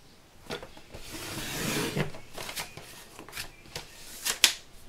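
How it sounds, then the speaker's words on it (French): Black paper being cut to size with scissors or a blade gives close, soft rustling and scraping strokes, with a few sharper snips and handling sounds, quiet and without talk. "on va prendre du papier noir qu'on va couper à la même dimension"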